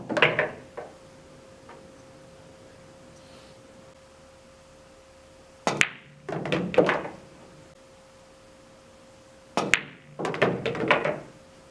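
Pool cue strikes and billiard balls clack during training shots on a table, in short clusters of sharp knocks separated by quiet pauses, with a faint steady hum underneath.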